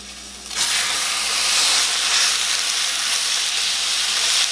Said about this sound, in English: We're going to add in our ground beef. We're going to cook this until it is completely cooked through